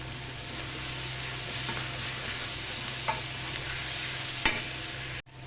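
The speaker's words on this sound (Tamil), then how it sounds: "இப்போ பாருங்கள் வெங்காயம் ஓரளவுக்கு வதங்கிடுச்சு இன்னி கூட வதங்க விடலாம்" Onions frying with ginger paste in a large pan, cooked for chicken curry for a big group, with a constant close sizzle, a few scattered stirring clicks and a sharp knock near the end.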